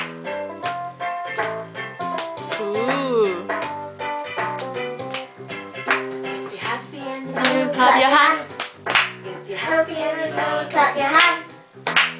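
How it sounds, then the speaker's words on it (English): Hands clap in rhythm along with a sung children's song, the claps mixed under melodic singing voices that dominate the sound. "you clap your hands"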